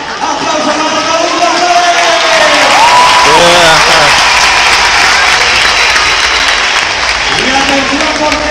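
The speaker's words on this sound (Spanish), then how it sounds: "aplauso para Raúl" Crowd applause fills the stands at a charity football match against malaria, a dense, loud, continuous clapping that carries through the whole stretch, with a commentator's voice and brief tonal sounds riding over it.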